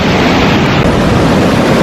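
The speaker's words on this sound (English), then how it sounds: "Here comes the water." Ocean surf washing onto a beach at Baler, Aurora, a steady, loud broadband rush with wind buffeting the microphone throughout and no distinct breaks between waves.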